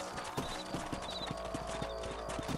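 Horse hooves in Red Dead Redemption clip-clop at a steady rhythmic gait while ridden, close and clear over a low ambient bed, no talk.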